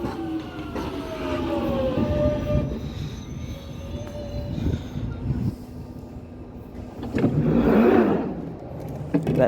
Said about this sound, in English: This is my train, or tube.